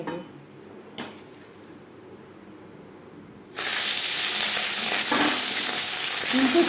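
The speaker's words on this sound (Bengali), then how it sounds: "তেল আমি গরম করে নেব সবার প্রথমে মাছ ভেজে" Marinated tangra fish, rubbed with salt and turmeric, drops into hot oil: a quiet stretch with a faint tap gives way to a sudden loud, sustained sizzle and crackle close by.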